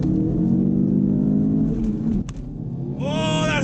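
A Ford Focus RS engine revving hard under full throttle, a loud sustained roar that drops briefly at a gear change, then climbs again in pitch.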